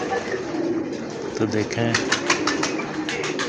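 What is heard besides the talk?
teddy pigeon cooing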